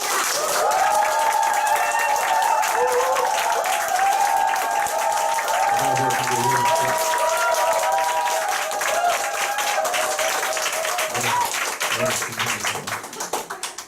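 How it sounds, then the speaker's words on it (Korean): Loud, continuous crowd applause welcoming a speaker to the stage at a group meeting, with some cheering, while music with a sustained melody plays underneath and briefly shifts lower partway through. "엄청나게 큰 박수와 환영을 해주셔야 돼요"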